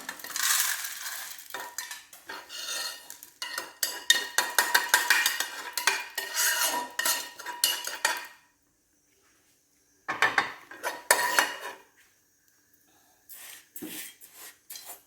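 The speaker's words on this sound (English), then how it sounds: "So now I'm going to remove this from my gas flame, and I'm going to keep it aside in a separate plate to cool down." Roasted dals are taken off a gas flame and tipped onto a separate plate while making sambhar powder: busy close scraping and metal clatter for about eight seconds, then silence, then two shorter bursts of rattling.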